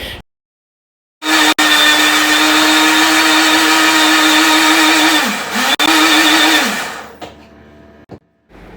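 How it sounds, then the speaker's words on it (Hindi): A kitchen mixer grinder grinding tomatoes whirs loudly for several seconds, briefly dipping and surging mid-run, then stops; sharp clicks at start and end. "तो टमाटर को भी मैंने अच्छे से मिक्सी में पीस लिया है।"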